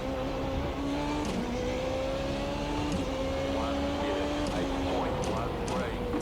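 Formula Renault 3.5 open-wheeler engine in the iRacing sim, a steady high-pitched whine with brief dips and clean power cuts on each gear shift, the engine note stepping as the semi-automatic box swaps cogs.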